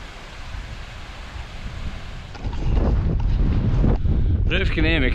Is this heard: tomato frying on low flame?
no